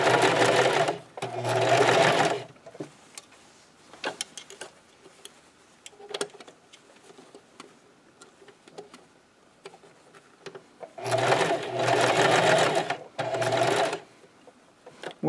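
A sewing machine stitches fabric for a scrub cap with a ponytail, running in several short loud bursts of rapid mechanical whirring separated by quiet pauses filled with small clicks and fabric handling.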